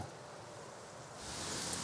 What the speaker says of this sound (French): Si, il vente. Je sais pas si vous entendez le vent, là.